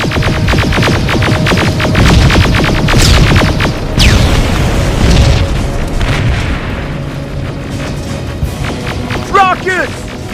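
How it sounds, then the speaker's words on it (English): Rocket explosions in Terminator: Resistance boom in a dense, loud barrage, with heavy low rumbling and repeated blasts over continuous battle noise, ending in a few high whines. "Rockets! They're heading this way!"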